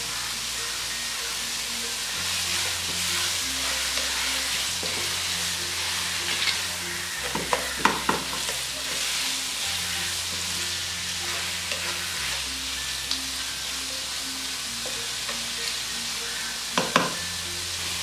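Salted ingredients sauté in a pan for stuffed eggs, a continuous close sizzle with occasional stirring scrapes and taps, and low music playing underneath throughout.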